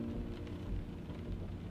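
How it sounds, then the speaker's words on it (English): Steady rain in a driving video game, a dense, even hiss of falling drops with a low rumble underneath, continuous and moderately loud throughout. "on my headphones, the rain was really loud"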